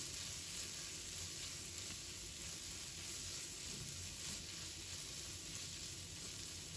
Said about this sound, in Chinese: 继续翻炒均匀，炒出酱香味